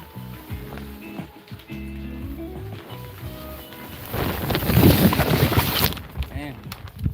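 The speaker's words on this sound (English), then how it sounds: "Man, that wind's blowing the plastic up." Plastic sheeting flapping and rustling in gusty wind at an off-grid homestead, starting quieter under a low hum and swelling into a loud, crackling rush midway before easing off; people talk intermittently.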